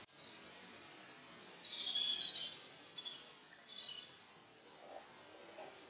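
Canaries in a small bird store room give faint, scattered high chirps and trills, a few short bursts over quiet background hiss.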